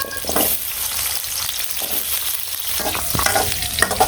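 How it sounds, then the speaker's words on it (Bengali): Potatoes fry in a pan with a busy close sizzle, broken by scraping stirring strokes and light clatter near the end, with no voices. "আলুগুলো একটু ভেজে নিয়ে"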